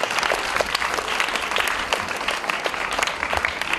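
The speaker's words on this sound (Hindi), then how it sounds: "आयुष आर्य के लिए ताली बजाओ" Audience clapping together at a Krishna Janmashtami gathering, dense steady applause from many hands, loud and continuous throughout without talk.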